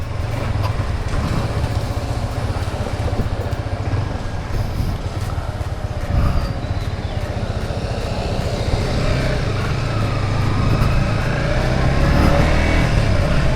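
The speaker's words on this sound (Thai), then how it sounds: "วันนี้ลุงพีก็ขับรถไปทำงานนะคุณผู้ชมด้วย XSR นะครับ ฝึกขี่แบบชิวๆ" A new Yamaha XSR155 motorcycle ridden at an easy pace on the way to work, its engine droning steadily under continuous road and wind rush, with no talking.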